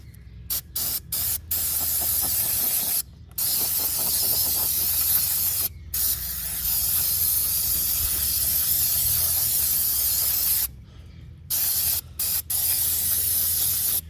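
An aerosol can sprays in a series of long hissing bursts, close and steady, separated by short pauses, during clutch replacement on a 2007 Honda Shadow motorcycle.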